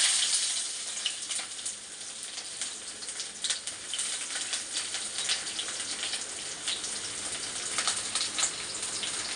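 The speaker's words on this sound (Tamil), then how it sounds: "எண்ணெய் காஞ்சதும் நம்ம கடுகு போட்டுக்கலாம்" Mustard seeds crackle and sizzle in hot oil for a curry noodle dinner, a steady bright hiss with scattered pops running throughout, close and fairly quiet with no talking.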